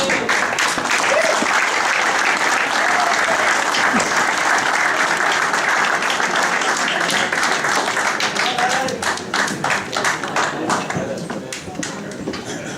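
Loud, dense applause from the crowd at a football club's 75th anniversary gala night for Carrick Rangers, sustained and even before thinning slightly toward the end, with a voice briefly audible under it.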